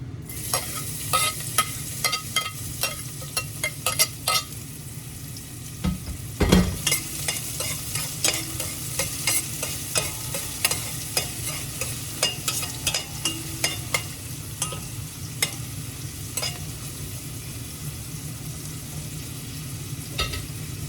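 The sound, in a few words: onions frying and being stirred in a pan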